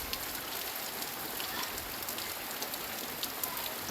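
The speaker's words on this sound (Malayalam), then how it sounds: "മഴ നന്നായിട്ട് പെയ്യുന്നതാണ്." Heavy rain pours down steadily, a dense, even hiss of drops on surfaces heard from indoors beside a kitchen, moderately quiet and unbroken, with no voices.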